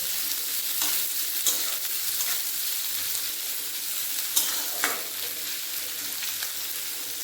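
Onions with chopped green chillies sizzle steadily in a hot pan, a continuous crackling hiss with a few sharper scrapes of stirring, no voices.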